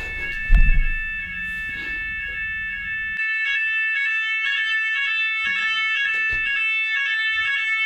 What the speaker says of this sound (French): C'est l'alarme incendie, je suis censée sortir.